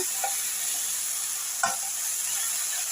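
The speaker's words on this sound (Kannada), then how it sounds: "ಇನ್ನು ಸ್ವಲ್ಪ ಫ್ರೈ ಆಗಲಿ" Okra fries in a pan with a continuous soft sizzle, while a few scattered scrapes and taps from stirring stand out nearby.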